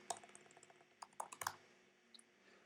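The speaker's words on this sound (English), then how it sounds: "So basically I'm just typing a console.log statement that shows us the event." Typing on a computer keyboard while writing a console.log statement in React code: a scattering of quiet, uneven key clicks in short bursts, close by and with no talk.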